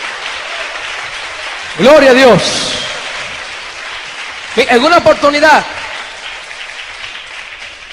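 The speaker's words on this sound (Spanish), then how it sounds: "Dale un aplauso a Cristo" A church congregation claps in a steady wash behind a preacher who speaks loudly in two short bursts over it.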